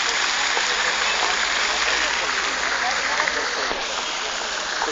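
Water runs steadily in park fountains at a reserve in Lima, a loud continuous rushing splash with no break, heard close by.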